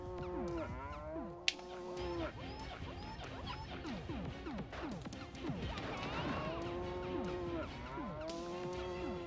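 A cow moos repeatedly in a retro video game played on a Mega SG console, its long, droning calls recurring among crashes, thwacks and other busy game effects.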